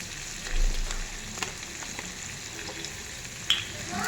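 Spice paste cooked down in oil until the oil separates, crackling softly and continuously in the pan, with occasional stirring knocks and one brief sharp clink.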